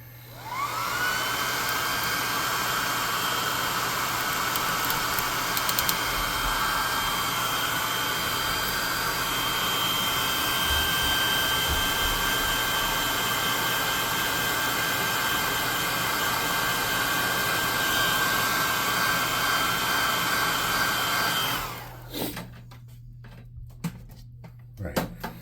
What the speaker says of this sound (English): Then we're going to get the hot air gun.